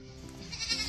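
A single short bleat from a sheep on a farm, close and moderately loud, heard on its own.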